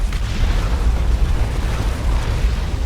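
An orbital strike explodes during a Space Marines versus Tyranids battle in Dawn of War 2. It makes a sustained, deep, rumbling blast that roars steadily for about three seconds without fading.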